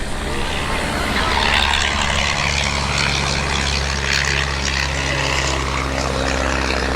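An Avro Lancaster propeller bomber drones loudly and continuously at the East Kirkby airshow in Lincolnshire, its engines holding a steady, deep hum with a rough edge for the whole stretch.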